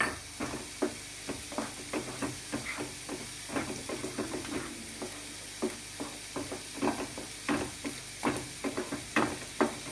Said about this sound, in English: Fry well.